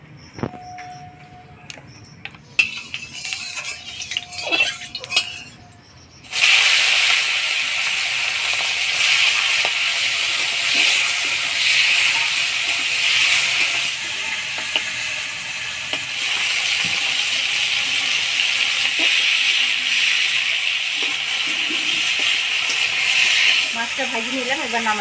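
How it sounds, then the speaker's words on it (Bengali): Fish dropped into hot oil in a wok, a few quiet clinks at first, then a sudden loud, continuous sizzle and spitting hiss that holds steady to the end. "এবার মাছগুলো ভেজে নিব।"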